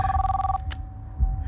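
A phone rings briefly in a dramatic film trailer scene, a short electronic ringtone tone followed by a quick burst, over low rumbling background music.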